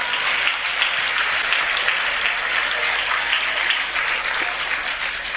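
An audience at a school's annual prize distribution and cultural program claps for a prize-winning student, with dense, even applause running steadily throughout.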